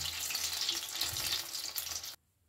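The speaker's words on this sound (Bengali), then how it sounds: "এইভাবে একটু সময় নিয়ে গোল্ডেন ব্রাউন করে এগুলোকে ভেজে নিতে হবে" Vegetable rolls deep-frying in oil until golden brown give off a steady, close, fairly loud sizzling hiss that cuts off abruptly into near silence at the end.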